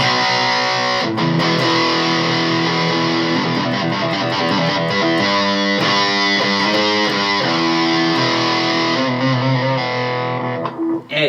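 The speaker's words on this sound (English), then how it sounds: "we just kick her right over and get that distortion going" An electric guitar runs through an Electro Harmonix Pocket Metal Muff distortion pedal, playing loud, continuous, heavily saturated riffs and chords that ring out for the whole stretch with no talk.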